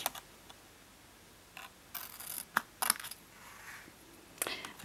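Scissors snipping through card stock to cut out a small tab on a Stampin' Up Easter bunny box, a few sharp, short cuts spaced irregularly, close and fairly quiet.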